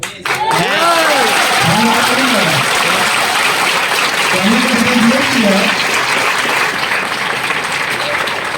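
An audience at a training seminar claps in loud, sustained applause that fills the room from start to finish, with voices calling out over the clapping.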